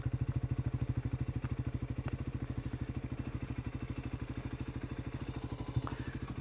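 Triumph Scrambler 400X motorcycle being ridden on a byway, its single-cylinder engine thumping in a fast, even pulse throughout, steady and moderately loud with a faint whir above it.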